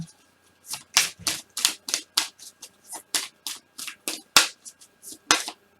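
Tarot cards are shuffled and flipped in quick, crisp snaps and taps, about twenty sharp close clicks in an irregular rhythm, with no talking.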